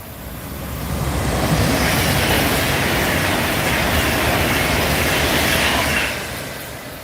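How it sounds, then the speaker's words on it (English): A loud video game train rumbles past up close at Rugeley Trent Valley in Train Sim World, swelling in and fading over several seconds with a broad roaring rush and no voices. "So here's another train."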